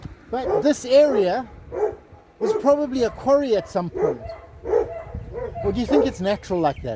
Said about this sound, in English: That noise you hear behind me are actual hunting dogs.